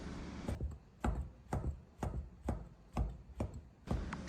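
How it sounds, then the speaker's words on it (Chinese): A knife chops rolled tofu skin into half-centimetre strips with about eight crisp, evenly spaced strokes against a board. The cuts are close and fairly quiet, with no voices. "切成半厘米宽的长条"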